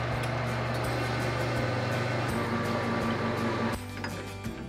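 Lathe cutting down the shank of a Winchester Model 70 rifle barrel, a steady close machine whir and grinding hum that shifts in pitch, then eases off near the end.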